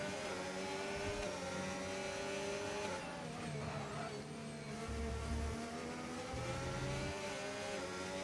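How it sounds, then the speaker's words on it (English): Racing cars from a video game lapping a track at the Spain round, a continuous close engine drone with shifting pitch as cars accelerate and jostle through traffic, no voices over it. "El Prat now exits into some traffic that he would not like to be involved with"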